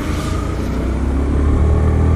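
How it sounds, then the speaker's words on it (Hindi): An army vehicle drives along a busy road during rush hour, its engine giving a steady, loud low rumble that builds slightly toward the end, with traffic noise around it. "आर्मी वाली गाड़ी भी जा रही है।"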